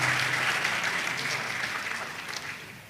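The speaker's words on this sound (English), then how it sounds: "Applause for her too." Steady crowd applause at a university convocation as a student prize for all-round dental performance is presented, a dense even wash that slowly fades near the end.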